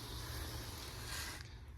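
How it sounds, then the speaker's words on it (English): A tank sprayer with a hand wand lays down a bug barrier around the outside of a house. It gives a steady, close hiss that fades out near the end. "I'm just going to show you how I go around and spray for bugs"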